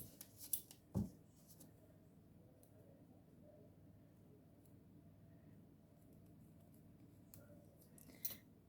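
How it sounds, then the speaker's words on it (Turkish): Scissors snip through silver metallic thread while finishing a crocheted oya-trimmed headscarf, with one sharp close cut near the start and a fainter snip near the end over quiet room hiss. "İpimi kestim."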